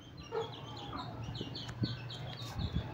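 An Aseel chicken clucks in short, quiet bursts in a farmyard coop, with a few soft thumps and faint background noise between the calls.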